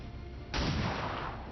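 A single pistol shot in the video game XCOM 2 cracks out suddenly after a quiet lull, then leaves a lingering, fairly loud reverberant tail.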